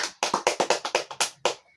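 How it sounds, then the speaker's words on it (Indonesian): Classroom applause for a student named Rani: about ten sharp, evenly spaced bursts of hand claps over nearly two seconds, close and fairly loud, with no talking. "kita berikan tepuk tangan untuk anak Rani"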